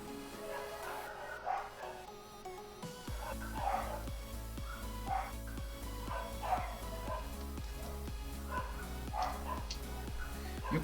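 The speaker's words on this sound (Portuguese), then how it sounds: "E o cachorro latindo atrás." A dog barks and yips in the background behind a live drawing stream, repeated short barks recurring through the clip over a steady low hum and music.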